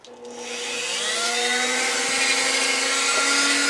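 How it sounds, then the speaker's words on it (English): A Dremel rotary tool fitted with a drill bit spins up and holds a loud, steady high-pitched whine up close while drilling holes. "I've got a drill bit connected to my Dremel, and what I'm going to do is I'm going to drill a series of holes."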